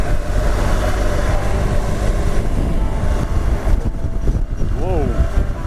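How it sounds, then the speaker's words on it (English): Strong wind roars across the microphone while riding an R1200GS motorcycle near a truck stop, a loud continuous rumbling buffet with passing traffic and a voice faintly beneath. "My God, it's really windy here."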